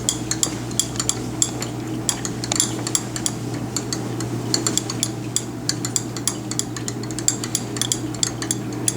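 A synthesis mixture for acetanilide is stirred steadily, producing rapid, irregular clinks and scraping ticks of a utensil against glassware over a constant low hum, close and clear with no talk.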